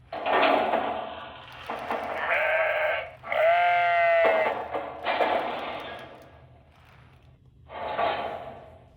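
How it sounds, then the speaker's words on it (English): Sheep bleating from the sound system of a Lionel model train stock car in a Vision Line Big Boy set: several distinct, wavering bleats in bursts with short gaps, fairly close and clear, with no talk. "you'll also hear some of the sheep sounds"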